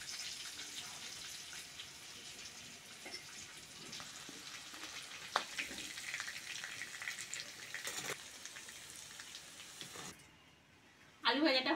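Potatoes and green chilies fry in oil in a village kitchen, a continuous low sizzle with occasional stirring clinks, quiet and close, before a sudden louder burst at the very end.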